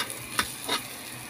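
Food being stir-fried in a pan at home, a soft steady sizzle with a couple of brief scraping stirs, fairly quiet and close, with no talking.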